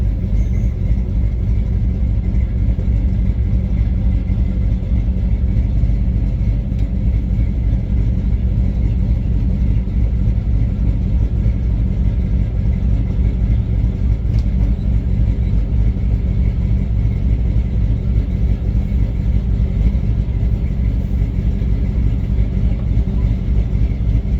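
A square-body Chevy wrecker truck's engine runs steadily with its PTO engaged, giving a loud, continuous low rumble with a slight mechanical drone and no talk over it.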